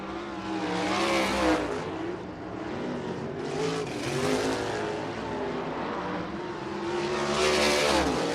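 USAC race cars on a hot lap session at Ocala Speedway, engines roaring as they sweep past in repeated waves that swell loudly and fade, with no talking.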